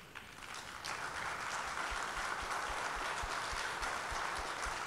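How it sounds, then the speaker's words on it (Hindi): A large crowd claps loudly and continuously for paralympic athlete Navdeep Singh at the Zee Real Heroes honours ceremony, a dense, steady wash of applause with no gaps. "एक बार जोरदार तालियां नवदीप के लिए।"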